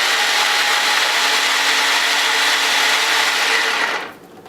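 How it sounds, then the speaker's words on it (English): A food processor grinds spinach with a loud, steady whirring roar that cuts off abruptly near the end, with no voices. "I have some spinach in the food processor, and we're going to get the lid on"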